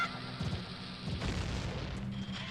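A bomb goes off in The Legend of Zelda: Ocarina of Time near a ladder, giving a low, muffled boom partway through against a faint background hum.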